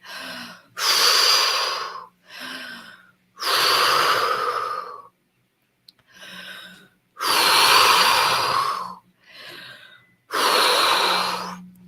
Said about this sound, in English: Someone starts breathing more deeply, more focused.